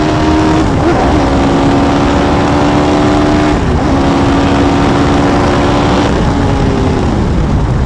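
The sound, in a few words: Hayabusa-powered race car engine on track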